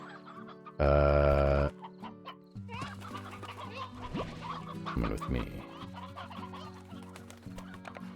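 Chickens cluck in Slime Rancher, a loud burst from a nearby hen followed by scattered clucks and squawks over a looping game backdrop, with a voice speaking briefly.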